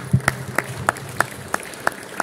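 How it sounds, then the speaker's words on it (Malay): Hand claps at a teachers' farewell ceremony in a Malaysian secondary school hall, heard as a sparse, evenly spaced series of about eight sharp claps rather than full crowd applause. "Kita beri satu tepukan yang gemuruh insya-Allah."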